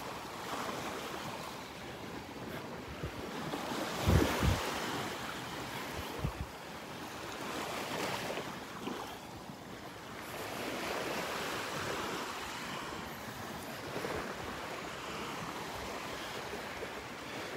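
Ocean surf washes onto the beach at Delnor-Wiggins Pass State Park near low tide, a soft continuous rush with gentle surges and some wind buffeting the microphone, distant and fairly quiet.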